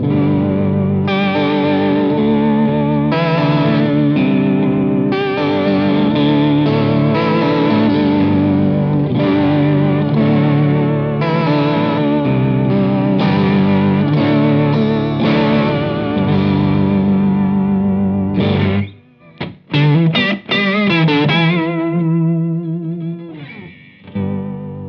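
Electric guitar running through a compact pedalboard with a Leslie rotary speaker effect, giving sustained chords with swirling, warbling modulation and some grit, loud and continuous before breaking into choppy stabs near the end.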